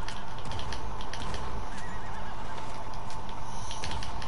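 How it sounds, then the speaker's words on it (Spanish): A horse in the video game Red Dead Redemption 2 whinnies loudly over a busy backdrop of hoof clip-clops and ambient noise. "a ver dónde se ha ido el caballo, que había por aquí un caballo de uno de ellos"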